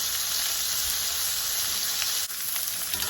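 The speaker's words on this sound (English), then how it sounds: "We got a nice little sear on there." Pork chops searing in a hot pan give a steady, loud sizzle and spatter that runs unbroken, with no voices over it.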